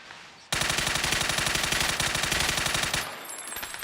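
Rapid automatic gunfire from a video game weapon fitted with a new foregrip, a loud, dense burst of rattling shots lasting about two and a half seconds, then fading into quieter ambient game noise.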